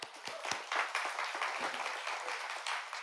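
Audience applause at the Google NewFront 2024 presentation, a steady wash of clapping from a crowd, moderately faint and continuous for a few seconds with no one speaking.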